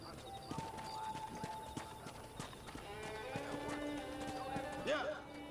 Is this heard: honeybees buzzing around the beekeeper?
no